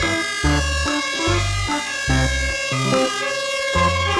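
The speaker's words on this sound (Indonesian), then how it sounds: "Yang ini ada mobil damkar teman-teman." Toy fire truck siren plays a loud electronic two-tone wail, alternating high and low pitches in a quick repeating pattern, close up and with no talking.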